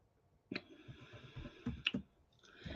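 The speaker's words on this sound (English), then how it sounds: "I started typing numbers." Keyboard keys tap as numbers are entered, a handful of quiet, scattered clicks spaced unevenly over a soft background.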